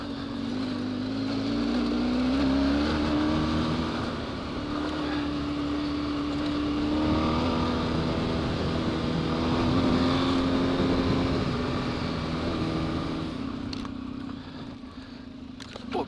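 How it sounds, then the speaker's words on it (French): BMW F 650 Funduro single-cylinder motorcycle ridden off-road over frozen puddles and bumps, its engine droning steadily at low throttle with slight rises and falls, close and fairly loud, with wind buffeting the microphone. "On se met sur l'arrière de la moto et on garde un minimum de gaz."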